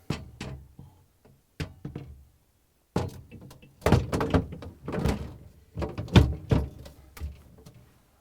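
A shelf being hooked into the rear cutouts of a Samsung refrigerator gives a series of hard plastic clunks and knocks, irregular and close, with short gaps of quiet between bursts.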